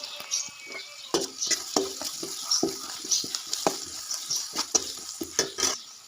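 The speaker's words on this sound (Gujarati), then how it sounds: "એની અંદર નાખી હળદર સ્વાદ અનુસાર મીઠું હલાવી લાવી" Cooked onions stirred with turmeric and salt in a pan, a steady soft sizzle with repeated scraping and clinking of a spoon against metal, close up and without any voices.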